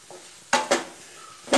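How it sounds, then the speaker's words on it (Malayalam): Spiced masala for Kerala-style kadala curry is stirred in a pan, with a few sharp spoon-on-metal clanks over a faint background hiss and no talking. "ഇനി ഞാൻ മസാല ഇതിലേക്ക് ആഡ് ചെയ്യുന്നുണ്ട്."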